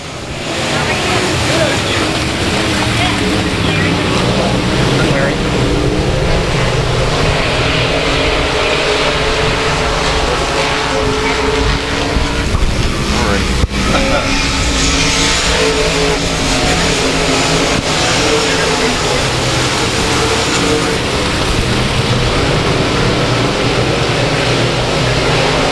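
Race cars roar past together at South Texas Speedway as a race gets underway, a loud, dense, continuous engine drone with revving swells sustained throughout, a crowd-like wash blended underneath.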